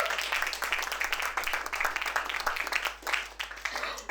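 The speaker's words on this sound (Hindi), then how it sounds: "एक बार जोरदार तालियां यार।" An audience bursts into loud, sustained applause at a Hindi poetry and talk event, dense clapping continuing steadily throughout with no speech over it.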